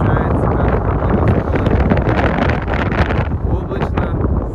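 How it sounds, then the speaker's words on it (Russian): Strong, steady, cold wind roaring and buffeting across the recording during a storm on the Black Sea at Sochi in February, with a rough, gusty rumble throughout and no pause. "На море шторм, дует пронизывающий холодный ветер."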